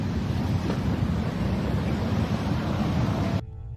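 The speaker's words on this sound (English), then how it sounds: "Waves up to 5 meters high hit the coast of Chile." Large ocean waves up to five meters high crash against the coast of Chile, a loud continuous roar of surf with heavy wind rumble across the microphone, dropping off abruptly near the end.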